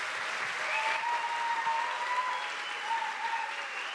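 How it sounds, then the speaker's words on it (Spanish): Applause from the audience at a live podcast recording during a philosophy festival, a dense, even patter of clapping heard from a slight distance that holds steady throughout. "Les pido un aplauso para él"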